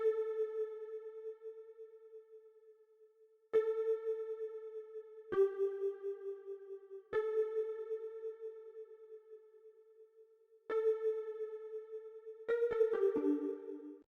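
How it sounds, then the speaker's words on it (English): Plucked, bell-like synth notes from the Silk Harp preset on Arturia's MiniFreak V ring out one at a time over about fourteen seconds, each decaying slowly, with a quick flurry of notes near the end, clean and alone. "But then I added this accent key, as I called it, and it is from the Silk Harp preset."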